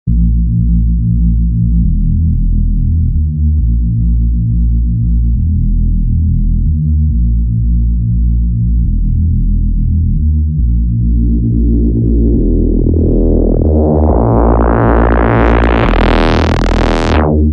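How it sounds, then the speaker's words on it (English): Thick, buzzing detuned Reese bass drone holding a repeating pattern; low-pass filter automation gradually opens its muffled tone, brightening into a harsh, sweeping roar near the end. "we can use the low pass filter above that to do the automation"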